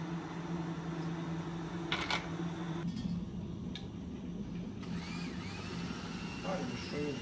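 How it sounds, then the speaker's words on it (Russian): An electric blender purees a homemade vegetable soup in a kitchen, a steady, muffled motor whir at low volume with voices over it. "И сейчас это все дело блендером перемешаю."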